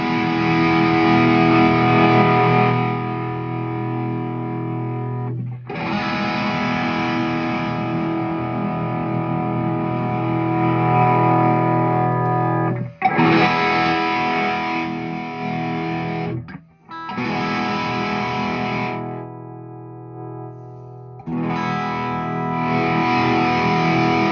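Electric guitar through a newly built Supersonic Drive overdrive pedal, thick distorted chords ringing out in long sustained phrases broken by brief pauses, loud and close with no talking.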